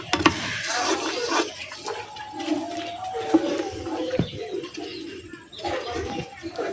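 Water pours into a pot of country chicken cooking over a clay stove, a gushing, splashing fill that rises and falls for several seconds, with birds faintly audible and some voice underneath.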